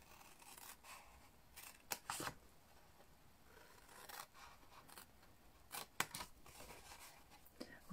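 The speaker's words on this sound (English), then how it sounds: "Wish I had a bigger pair of scissors." Designer series paper being cut with a small pair of scissors, crisp snipping and slicing strokes at irregular intervals, quiet and close with no talking.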